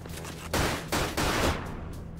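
Gunfire from the video game Dirge of Cerberus: Final Fantasy 7: three loud, close bursts of shots in quick succession over a steady game background hum.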